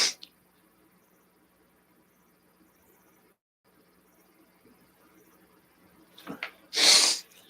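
A single loud, close sneeze bursts out near the end after a faint inhale, following several seconds of near silence.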